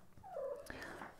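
Domestic cat close by, a short soft vocal sound with a rising and falling tone, quiet and brief.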